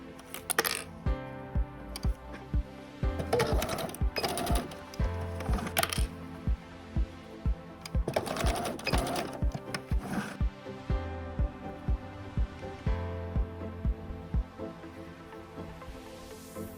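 A sewing machine stitching elastic onto a scrub cap, rhythmic mechanical bursts of clattering that start and stop in several short runs, separated by quieter pauses, close and fairly loud.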